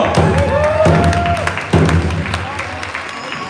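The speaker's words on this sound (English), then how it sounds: "Let's give a round of applause." Audience applause at a Vietnam veterans Wokiksuye Wacipi gathering, steady crowd clapping with a few heavy thumps, while someone speaks loudly over it.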